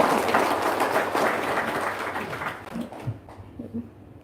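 An audience breaks into applause, a loud dense clapping that fades and thins out toward the end, leaving a few scattered claps.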